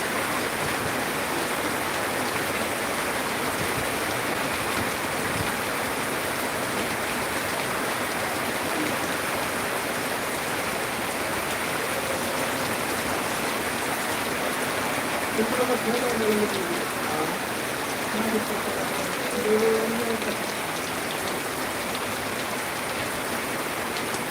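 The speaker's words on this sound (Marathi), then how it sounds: "पावसामध्ये जोर वाढलेला आहे" Steady heavy downpour over a farm field in Sandol, Latur district, a continuous close hiss of rain on surfaces, with brief faint murmurs of a voice partway through.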